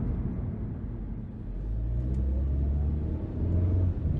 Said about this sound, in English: Decent pickup, honestly, for the 2-liter naturally aspirated 4-cylinder